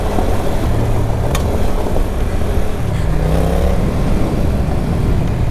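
A Yamaha XSR 700 motorcycle on Pirelli Scorpion Rally STR tires riding off-road over dirt and gravel, a steady, loud engine drone mixed with heavy wind rumble and crunching road noise.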